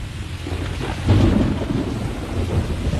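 A thunderstorm with heavy rain: steady dense rainfall with a low thunder rumble swelling partway through, continuous and fairly loud, no voices.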